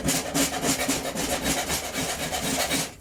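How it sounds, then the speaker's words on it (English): A hand file rasps across the cut edge of a metal panel during rust repair on a Land Rover Discovery 300tdi, a fast rhythmic series of close, harsh back-and-forth strokes. "So all I do is take the file, sorry. And just take that little bit out, what you've missed cutting."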